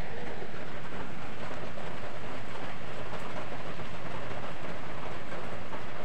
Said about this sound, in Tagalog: grabe sa ulan ay